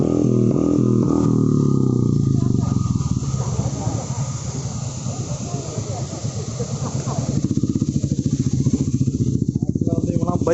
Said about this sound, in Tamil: பைக்கர்ஸு எல்லாமே வந்து ராயல் என்ஃபீல்டில் வந்துருக்குறாங்க.